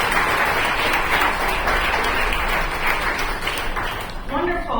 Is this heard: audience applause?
yes